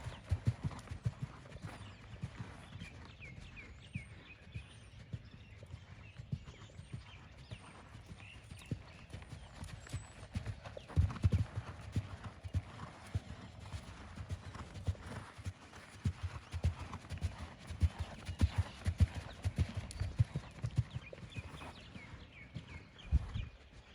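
A mare's hooves canter rhythmically over ground between gymnastic jumping fences during home training, with steady near clip-clop beats, a few heavier thumps, and faint bird calls in the background.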